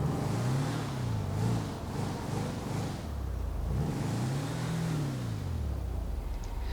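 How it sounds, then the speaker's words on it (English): A VW bus engine in GTA 5 starts up and settles into a low, steady rumble, with the revs rising and falling in two slow swells, heard alone and fairly close. "Starts right up. That VW sound."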